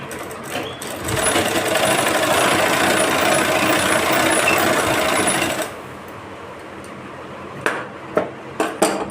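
Sewing machine stitching the eye strip onto a blouse, a fast steady whirring run for about four seconds that then stops, followed by a few sharp clicks and knocks, with no talking.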